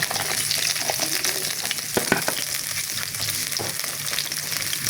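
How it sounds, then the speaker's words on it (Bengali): Chopped onion frying in a kadai on a stove, a steady close hiss of sizzling oil with occasional stirring scrapes, loud and continuous throughout with no talking. "চুলার উপরে একটা কড়াই বসিয়ে তার মাঝে কিছু দিয়ে দেবো পেঁয়াজ কুচি।"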